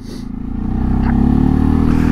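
A 2022 Segway AT6 SX 570 ATV labors up a slope, its engine and CVT revving in a rising, pulsing drone that climbs and then holds, loud and close.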